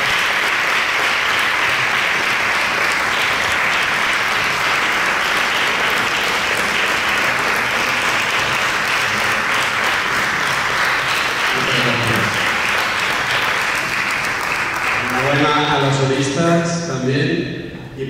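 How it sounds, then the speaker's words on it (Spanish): Sustained applause from a concert audience at an international band conducting competition in Pozo Estrecho, loud and dense throughout, with a voice starting to speak over it near the end. "un gran aplauso para ellos"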